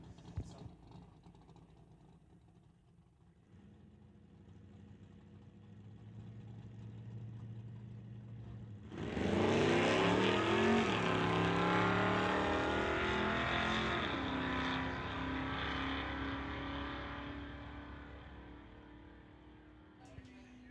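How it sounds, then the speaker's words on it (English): A 1968 Plymouth drag car on a solo bye run at a summit ET bracket race: engine idling low in the staging lanes, then a sudden loud roaring launch that stays heavy and steady before fading as the car pulls away down the strip. "A bye run for Eric Hansen."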